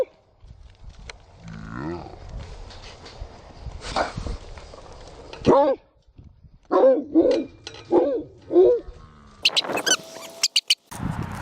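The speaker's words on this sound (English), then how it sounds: "Hey, watch out for the guard dogs." Guard dogs bark in a run of short, loud, separate yelps from nearby, heard from a 350Z race car that is close to overheating and driving past them.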